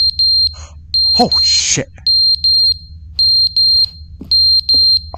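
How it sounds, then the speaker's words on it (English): Smoke detector alarm in The Stanley Parable video game, sounding as a series of loud, steady high-pitched beeps in repeating short bursts, with a man's brief exclamation and groan partway through. "Is that a smoke detector,"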